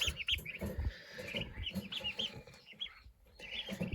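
Young chicks and turkey poults peeping and cheeping in quick high chirps, with soft clucks and scratchy rustling close by throughout.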